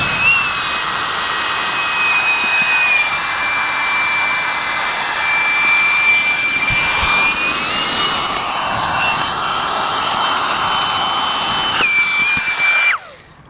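An electric air pump inflating a camping mat on a metal grate under a bridge catwalk, a loud steady whining drone with a high tone that rises slightly before cutting off abruptly at the end.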